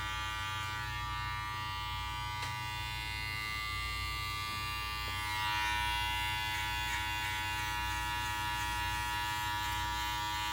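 Electric hair clippers fading a haircut run with a steady buzzing hum throughout, faint and close, with small shifts in tone as the blades move through the hair and no talking.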